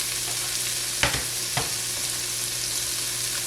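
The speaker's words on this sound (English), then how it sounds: "we're gonna go and put our onions in here. We're gonna sizzle." Steady frying sizzle from onions in a hot frying pan, with a couple of brief clatters of a utensil stirring partway through.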